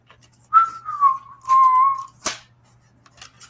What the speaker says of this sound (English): I didn't know you could whistle.